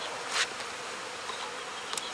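Honeybees hum inside a bee bus shipping container of packaged bees, a soft, continuous buzz with a few brief louder swells as individual bees fly close.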